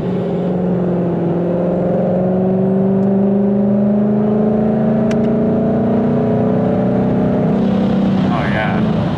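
A 1000 HP Ford Mustang, dealer-built and dyno-tuned, pulls away from traffic with a steady rising engine drone that climbs in pitch over several seconds, loud and close from inside the car, with a brief voice near the end.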